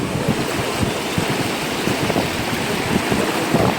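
Strong floodwater current rushing after heavy rain, a dense, steady roar of churning water close by with some wind buffeting, no voices.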